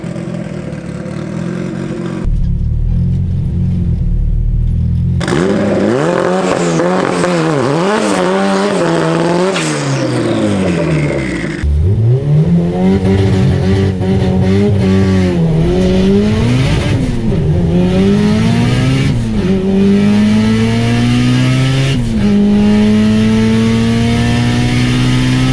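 A Honda Civic with a fully built LS VTEC engine launches in a drag race, loud and close, screaming up through the revs with sharp rising sweeps and brief drops at each gear change, then pulling hard again.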